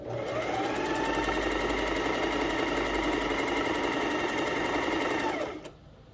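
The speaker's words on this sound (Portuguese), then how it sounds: "E vou costurar no 2. No zigue-zague 2" Domestic sewing machine stitching a zigzag on knit fabric at setting 2, a steady fast mechanical whir running continuously for several seconds before stopping abruptly near the end.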